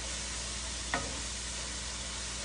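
Garlic and onion frying in a pan, a steady soft sizzle with a single brief scrape of a utensil stirring partway through.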